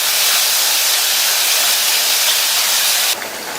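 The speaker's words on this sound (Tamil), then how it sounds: "இப்ப இந்த வெங்காயம் வதங்கி லைட்டா அதனுடைய கலர் சேஞ்ச் ஆகி வரட்டும்" Onions sautéing in a pan for a vegetarian Tamil lunch, giving a loud, steady broadband sizzle and hiss that holds evenly before dropping slightly near the end; no one talks.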